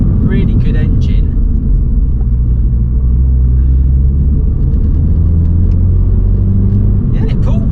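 A 2023 Mini Cooper JCW engine hums as a steady low rumble from inside the moving car, running continuously beneath a voice talking throughout.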